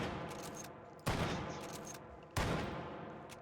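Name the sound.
Mosin Nagant rifle shots in the video game H3VR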